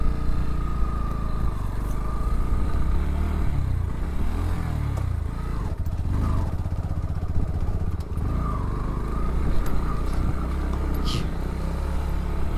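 A Bajaj Pulsar NS 2023 model motorcycle rides along a road, its engine droning steadily with gear-linked pitch rises and falls under constant wind rush.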